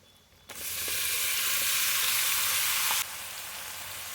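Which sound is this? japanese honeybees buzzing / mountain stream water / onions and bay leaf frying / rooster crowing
onions and bay leaf frying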